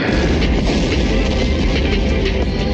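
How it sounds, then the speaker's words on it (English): A loud, sustained roar of a massive explosion in Pasadena, California, rumbling continuously with dense low-end energy and no clear pauses throughout, as in news footage of a blast that erupted into flames. "what looks like a massive explosion in Pasadena, California, which then erupted into flames"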